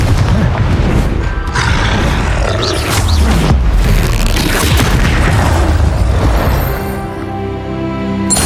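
A Confringo fire spell explodes in the video game Hogwarts Legacy, giving a loud, close booming blast with a long roaring rumble and crackle that fades toward the end.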